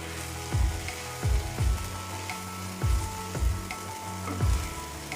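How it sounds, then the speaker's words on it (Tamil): Egg with onion and green chilli stir-fried in a pan: steady sizzle broken by about six rhythmic heavy tosses or scrapes, evenly spaced and close. "நல்லா இதே போல் பிரட்டி விடணும்"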